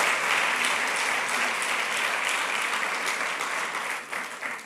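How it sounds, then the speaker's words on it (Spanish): Church congregation applauding during a Sunday service, a steady dense wash of many hands clapping that holds loud throughout and dips slightly near the end. "¿Qué tal el aplauso para el Rey de Gloria?"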